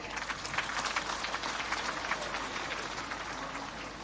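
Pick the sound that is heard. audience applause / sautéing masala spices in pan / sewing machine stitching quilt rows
audience applause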